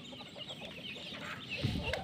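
A hen with her nine chicks in a backyard coop, giving faint, steady clucking and soft peeping at a distance over low outdoor background noise.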